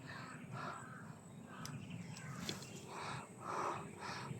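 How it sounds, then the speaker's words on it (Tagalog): Crows cawing outdoors in repeated harsh calls spaced through the stretch, moderately near, over a steady background of insects or other wildlife, with no voices. "May mga uwak mga idol."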